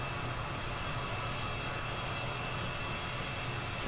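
A steady, loud aircraft engine roar from the Kerbal Space Program video game holds constant as the throttle is raised, a broad dense drone with no talk.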